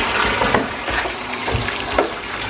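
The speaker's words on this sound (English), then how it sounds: "So I'm going to rinse the hair with cool water." Cool water runs continuously while used hair extensions from crochet passion twists are rinsed, a close, steady splashing flow with small irregular surges.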